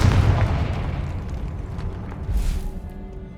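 Confringo explosion spell in Hogwarts Legacy, a deep booming blast up front that rumbles and fades, with a smaller burst near the end.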